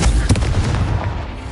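A Confringo fire spell detonates in the Hogwarts Legacy video game, a loud, booming blast with a heavy low rumble that opens sharply and then decays into a rolling burst over about a second and a half.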